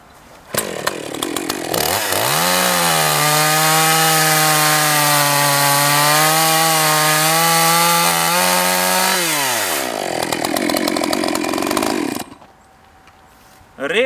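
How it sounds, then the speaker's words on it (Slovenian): A motor chainsaw revs up and bites into wood for roughly seven seconds with a loud, steady high-pitched whine whose pitch dips under load, framed by idling and sputtering before and after, close to the listener. "na ostrogo naslonimo motorno žago, zarežemo ali iz enega oporišča"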